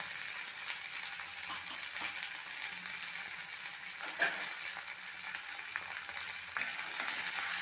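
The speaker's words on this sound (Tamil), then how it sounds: "காஞ்ச மிளகாய் பச்சை மிளகாய் வெங்காயம் கருவேப்பிலை எல்லாம் போட்டு நல்லா வதக்கி இருக்கலாம்" Onions, dried and green chilies and curry leaves sautéing in a pan with roasted chana dal for kambu aval, a steady close sizzle and crackle with occasional faint stirring scrapes, no voices.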